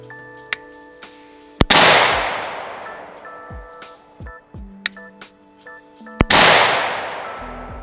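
Rifle shots from a PSA AK-103 GF3 firing cheap ammunition, a few sharp, loud single cracks spaced irregularly, each followed by a long rolling echo, with quieter clicks and handling sounds between them.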